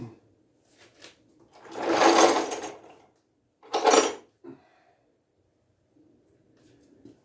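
Briggs & Stratton 23D engine cranked to start in two short bursts of mechanical churning, the first longer and louder, the second brief, separated by near-silence and followed by faint clicks.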